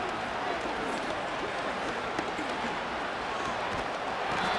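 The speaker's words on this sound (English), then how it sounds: "This crowd turning up the decibel level" A large stadium crowd roaring continuously at a pro football game in Montreal, a dense, steady wall of noise that holds at the same loud level throughout, heard from within the stands with no clear break.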